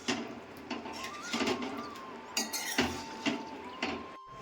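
A spoon stirs pieces of patra into vegetables in a cooking pot, giving light clinks and scrapes against the metal in short separate bursts, close by and fairly quiet, with no one speaking.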